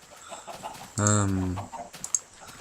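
A single loud, drawn-out chicken squawk from Minecraft stands out over a quieter background of game noise and soft sounds.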